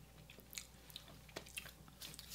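Crisp crunches from biting into an Aldi keto cookie, several quiet, close bites and chews scattered irregularly over a faint background, with no talking.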